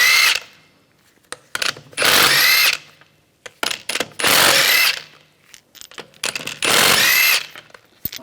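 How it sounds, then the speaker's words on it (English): A power tool spinning out the lug bolts on a 2010-2014 Volkswagen GTI front wheel with a 17mm socket, heard as three loud, close bursts of whirring rattle separated by quieter clicks and handling noise. "I'm going to use a 17mm socket. Take the lug bolts out."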